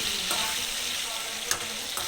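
Raw peeled potato strips fry in hot oil with turmeric and salt, giving a steady close sizzle with a few light stirring scrapes and taps throughout.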